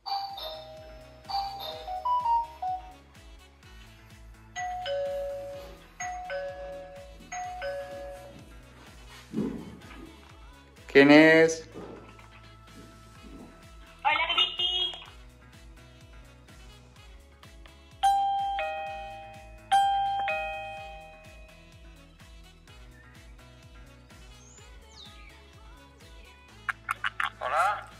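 A smart video doorbell chime sounds through a home speaker several times, bright electronic ding-dong tones and melodic notes over a low pulsing background, with brief speech in between.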